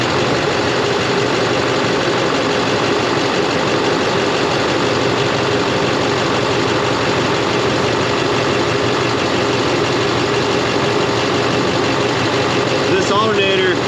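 A Chevrolet Silverado truck engine with a holed exhaust manifold idles steadily and loudly up close, a constant rumble with no pause for the whole stretch.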